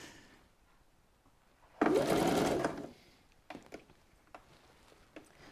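A sewing machine stitches a seam in one short, loud burst of rapid mechanical whirring lasting about a second, followed by quiet handling clicks and taps.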